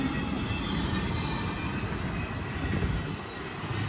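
Heavy BNSF intermodal container and trailer cars roll over Cajon Pass summit steadily with a deep rumble and faint wheel squeal, a continuous close mechanical roar with no talking.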